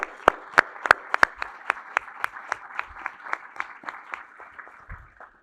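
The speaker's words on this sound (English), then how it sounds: "I just wanted to give Pat and Jen a round of applause too for everything they do." A small group claps steadily for a few seconds, the clapping gradually thinning out and fading near the end.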